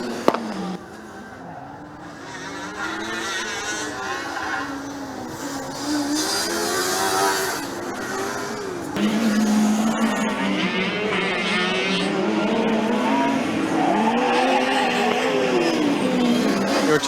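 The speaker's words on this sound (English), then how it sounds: "the Pilsen car, also coincidentally black and blue, sounds very well as well" A black and blue Formula Student race car from the Pilsen team laps during an endurance run at Formula Student Germany 2018, its engine note rising and falling steadily and close by, with a voice talking intermittently over it.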